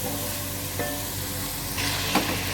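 Tomatoes with turmeric cooking on low heat in a partly covered pot for a black chickpea pulao, an even, gentle sizzle throughout with a brief brighter crackle and a light clink near the end, no talking.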